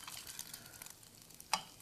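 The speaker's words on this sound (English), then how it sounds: "had a little sizzling butter" Butter sizzling in a pan hollowed out in corned beef hash, a steady soft crackle and hiss with one brief louder pop near the end, close and without talking.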